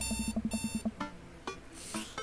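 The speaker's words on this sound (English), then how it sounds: "I jolt awake to the sound of my alarm." An alarm clock in the video game Dream Daddy beeps in a quick run of eight rapid tones, then a few sparser chimes follow, fairly quiet and alone.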